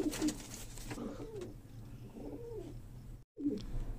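Breeder pigeons cooing nearby, a series of soft, low rounded coos repeating at an unhurried pace with a brief gap before the final call.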